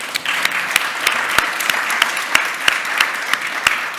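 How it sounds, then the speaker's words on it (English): At a community summit, an audience gives steady, full applause. Dense clapping continues for several seconds with a few sharper claps standing out, and there are no voices over it. "One more round of applause for the team."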